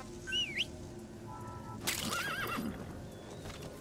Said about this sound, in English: Can I call my horse?